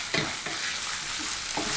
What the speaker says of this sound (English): I'm even going to fry in my oregano because I think it gives another layer of flavour